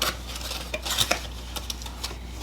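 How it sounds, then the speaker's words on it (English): Small wooden spoons handled and knocked together in a box, giving light scattered clicks and taps against a steady low hum, with no one speaking. "It comes with these little spoons. They're wooden spoons."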